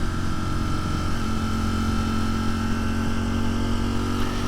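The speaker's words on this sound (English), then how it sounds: "You can hear the exhaust a little bit more." Exhaust of a warmed-up 2022 Ducati Streetfighter V4 motorcycle, a steady, dense engine drone heard close and continuous, with no voices.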